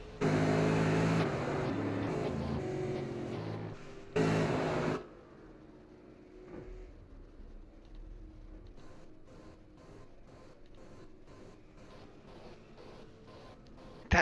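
Race car engine from an iRacing Super Late Model at Myrtle Beach, loud and buzzing in two bursts before dropping to a quieter, steady drone with faint rhythmic ticking.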